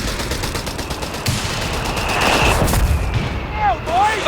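Machine gun fire in the battle game Company of Heroes 3, with rapid repeating bursts and explosive booms layered over dense battlefield noise, loud and continuous, plus a short whistling sweep near the end.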